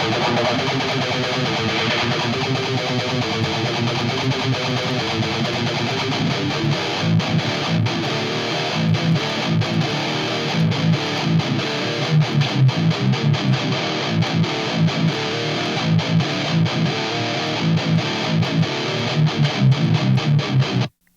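Heavily distorted electric guitar chugs through a Maxon pedal into an Orange Rockerverb amp with a dense, crunchy tone, playing a steady rhythmic riff with no voices.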